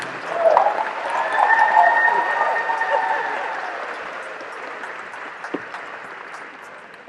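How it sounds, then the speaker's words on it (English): An audience at a homecoming convocation ceremony breaks into a warm round of applause and cheers for a guest speaker, loud dense clapping swelling early, then slowly fading over several seconds. "give a warm, ramtastic round of applause and cheers to our speaker"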